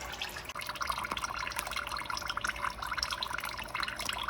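Engine oil drains from a 2002 Porsche Boxster S, heard as a continuous close trickling, splashing stream with a few faint drips and no voices.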